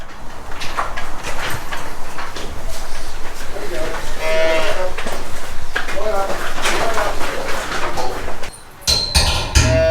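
Dairy cows in a milking shed mooing loudly and repeatedly, several long calls close by with some shuffling in the shed and people talking.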